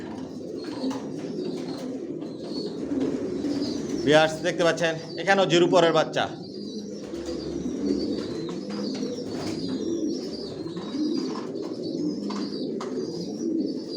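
Racing pigeons, including young birds, coo steadily and softly throughout a loft, with a brief louder flurry of calls near the middle while someone talks over them.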